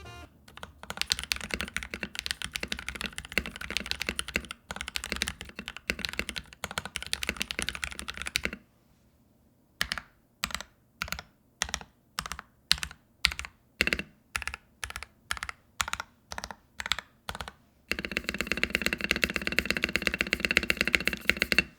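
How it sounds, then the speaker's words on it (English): Modded mechanical keyboard typing in fast bursts, then a pause, then a slow series of evenly spaced deep keystrokes, then rapid typing again; crisp and close. "here's another sound test of what the keyboard could sound like if you do put in a little bit of effort to mod"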